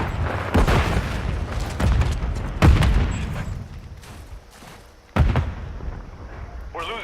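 Semtex grenade explosions in a first-person shooter video game, heavy booming blasts in a busy, dense battle mix with a sharp loud burst near the middle and another later on.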